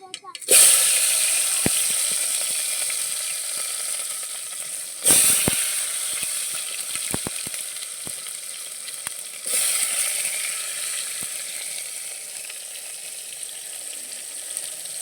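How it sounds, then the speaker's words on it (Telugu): Tomatoes drop into hot oil with fried mustard seeds, giving a loud sizzle that flares three times as more goes in, then settles to a steady frying hiss with faint stirring clicks. "ఇప్పుడు ఆవాలు వేగినాయండి ఇప్పుడు టమాటా వేద్దామండి"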